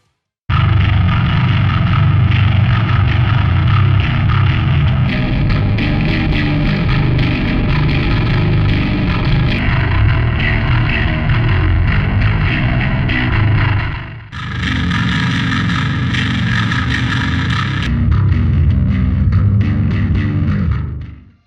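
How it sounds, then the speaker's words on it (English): Loud distorted bass guitar playing continuously through the STL Tonality Will Putney amp simulator plugin, the tone shifting between several bass presets, heavy and gritty with no voices. "And let's also hear some of the bass presets."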